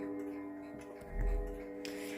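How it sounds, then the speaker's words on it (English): A small quartz miniature street clock ticks softly in a room, its faint, even ticks sitting under a steady background hum. "a miniature street clock, which I bought while I was in Austria 2 years ago. Even though it's quartz, it's a pretty cool thing."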